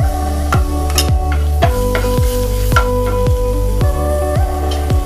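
Garlic fries in butter in a pan, giving a steady close sizzle broken by regular scraping knocks as it is stirred, with no voices.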